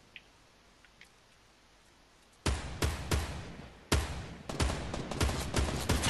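An opponent's gunfire in Fortnite: after a quiet stretch with a couple of faint ticks, loud rapid bursts of automatic shots erupt and keep going in clustered volleys, close and sharp.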